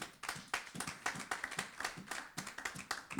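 A congregation claps hands in steady rhythmic applause during a church worship service, a dense run of repeated claps with no talking over it.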